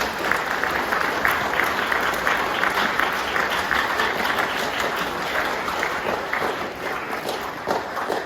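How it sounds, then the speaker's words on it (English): A school assembly crowd of pupils and staff gives a big final round of applause at a June celebration, dense sustained clapping filling the hall evenly throughout and easing slightly toward the end. "Can we give them one big final clap?"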